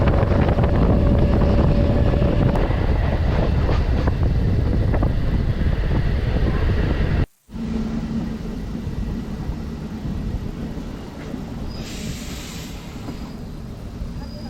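Gudur MEMU Express 17260 from Vijayawada to Gudur runs with a loud, steady rumble and wind rush heard from on board, a brief dropout midway, then the rolling noise resumes. A voice speaks faintly at times.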